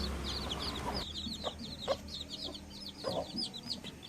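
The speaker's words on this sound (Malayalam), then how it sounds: "ഇതാണ് നമ്മുടെ വിരിഞ്ഞിറങ്ങിയ കോഴിക്കുഞ്ഞുങ്ങൾ." An Aseel hen and her newly hatched chicks cluck and peep in a steady, close run of short calls, the high chick cheeps layered over lower soft hen clucks throughout.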